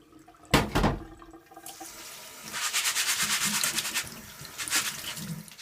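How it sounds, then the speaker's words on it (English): Running water splashes over adzuki beans as they are rinsed in a kitchen sink, a sharp splash near the start followed by a steady, fluttering stream of rinsing for several seconds. "And wash it away. Rinse it."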